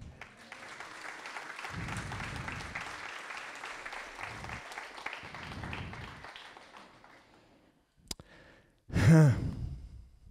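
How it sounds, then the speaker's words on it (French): Church congregation applauding during a testimony service, a steady broadband wash of clapping for about eight seconds that fades out, followed by a brief louder burst near the end. "On peut applaudir le Seigneur?"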